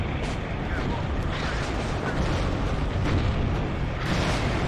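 Dense, continuous rumbling of explosions and battle effects in the game WARNO, a thick wall of booms and crackle with no pauses.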